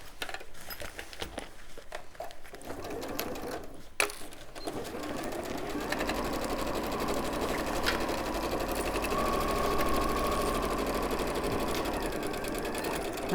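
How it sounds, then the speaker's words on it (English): A domestic sewing machine stitches batik cotton fabric along a 1 cm seam allowance, a steady close whirring hum that runs continuously after a short start, with no talk over it. "Going to sew with my 1 centimetre seam allowance."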